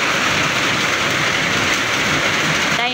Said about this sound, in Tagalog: Pero pag uwi namin ngayon, malakas yung ulan